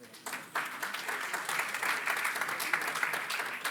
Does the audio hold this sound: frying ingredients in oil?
no